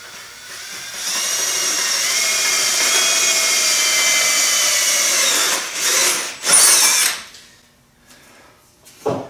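A power drill bores a hole through a piece of a homemade Jeep kayak rack, using an existing hole as a guide; a steady, loud whir runs several seconds, then stops with a few short bursts and handling noises.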